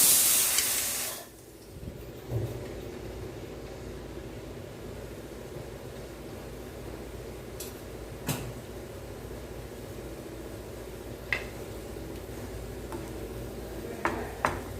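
Tamarind onion gravy simmering in a pot on the stove, a faint, steady bubbling hiss with a few soft, scattered ticks and clicks, and no voices.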